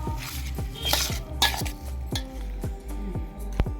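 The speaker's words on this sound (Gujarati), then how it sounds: "હવે તેમાં છે ઉપરથી સોટ પાવડર ઉમેરી દઈશું મિક્સ કરી" A spoon stirs dry ginger powder into a thick adadiya mixture in a pan, a series of scraping strokes with clinks against the metal at a steady rhythm, close up and without speech.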